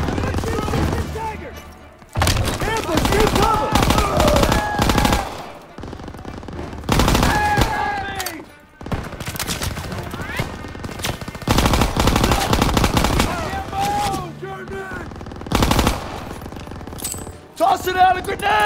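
Heavy, sustained machine gun fire rattles through a World War II street battle in Call of Duty WWII, dense overlapping bursts with booms and impacts, while soldiers shout over the gunfire.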